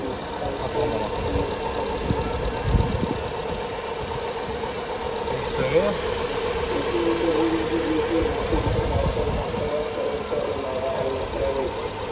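A used Honda Fit with about 200,000 km on it idles steadily at close range, a low even engine hum running throughout under people talking nearby.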